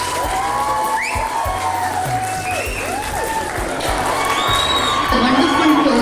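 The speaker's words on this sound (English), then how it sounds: "can we have a big round of applause for Alric?" Birthday party guests applaud steadily throughout, with sustained clapping, some cheering and whoops, and voices calling out over the crowd noise.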